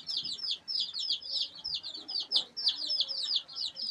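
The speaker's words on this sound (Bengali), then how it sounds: "এই যে মুরগি পালা শুরু করলাম।" High-pitched peeping and chirping from young chicks repeats continuously and close by, in quick overlapping calls.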